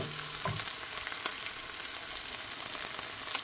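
Vegetables and tuna fry in a pan with a bright, steady crackling sizzle. It stays loud and close throughout, with a soft knock early on and no talking.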